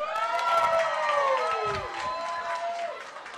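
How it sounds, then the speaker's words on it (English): A crowd at a wedding reception cheers and claps for the newlyweds, with loud whooping voices sliding in pitch over a bed of applause that gradually fades. "can we get a round of applause for the beautiful newlyweds?"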